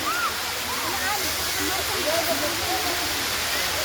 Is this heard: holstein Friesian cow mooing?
no